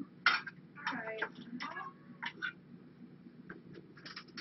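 A house cat meows several times in a kitchen during a morning routine, its short rising cries coming close and clear with small clinks and household noises in between.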